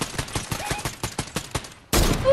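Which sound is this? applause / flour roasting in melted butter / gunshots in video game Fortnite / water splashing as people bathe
gunshots in video game Fortnite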